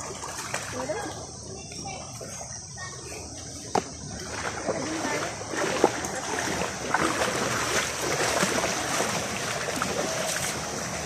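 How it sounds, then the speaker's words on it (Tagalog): Water from a cold spring at Maslog in Matuguinao, Samar, flowing as a steady broadband rush throughout, with light rain and a few brief knocks, while people talk faintly nearby. "Dito galing yung tubig oh."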